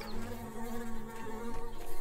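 Bees buzz in the video game Secrets of Grindea, a steady close insect drone with a wavering pitch that holds throughout with no talk.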